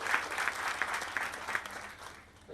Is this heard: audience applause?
yes